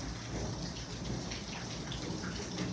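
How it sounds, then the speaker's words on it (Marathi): Heavy rain pours down outside a house in a steady, loud, dense hiss that lasts the whole time, with no voices over it. "जोरात पाऊस पडत आहे बाहेर"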